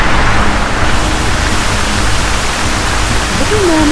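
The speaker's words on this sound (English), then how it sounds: "a terrible storm blew over the sea that night" A storm at sea as a dense, loud, unbroken roar of wind and surging water, with a faint tonal sweep near the end.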